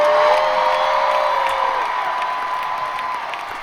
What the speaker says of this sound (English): they ended and everyone applauded